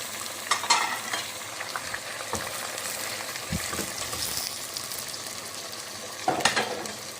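Tomatoes tipped into keema karela frying in a pan, a soft continuous sizzle with a few louder clatters of ingredients and spoon near the start and end, close by and fairly quiet, with no talk.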